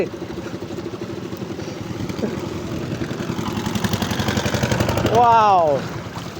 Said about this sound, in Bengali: সামনে দিয়ে নৌকা আসতেছে